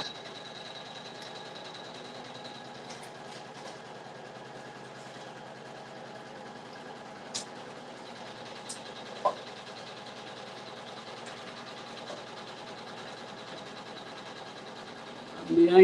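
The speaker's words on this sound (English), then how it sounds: "So that's just the placement stitch is doing now." A Janome 500E embroidery machine running a placement stitch, producing a faint, steady mechanical hum with a few small clicks, heard alone for the whole stretch.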